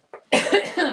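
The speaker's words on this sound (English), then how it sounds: "Can't edit out all my coughs during a live." A single cough rings out close to the microphone during a live crafting session, a short soft catch followed by a louder, rougher burst that trails off, with no talk over it.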